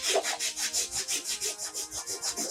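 Sandpaper of 120 grit scrubs a 3D-printed part in quick, steady back-and-forth strokes, about five per second, each a close, dry, gritty rasp with no talking.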